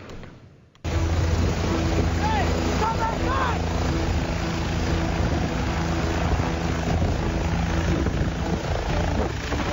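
A rescue helicopter airlifts a body from Kelingking beach on Nusa Penida, Bali, its rotor thudding loud and steady with engine whine, surf underneath and a few faint voices in the background.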